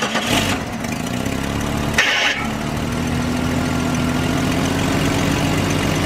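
A Jeep Cherokee engine cranks briefly, catches, and settles into a steady, loud idle that continues evenly to the end, during a fuel pressure test.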